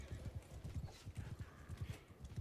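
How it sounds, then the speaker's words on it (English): Horse hooves galloping in the Mount & Blade II: Bannerlord video game, a steady rapid clip-clop of several close, loud hoofbeats running through the whole stretch with faint battle noise behind. "Okay, stab the horse."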